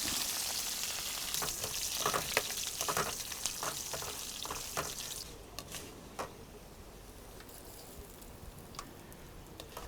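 Mustard seeds, five dried chillies and curry leaves fry in hot oil for a Kerala-style beef curry, popping and crackling sharply at first, then easing into a quieter, steady sizzle nearby.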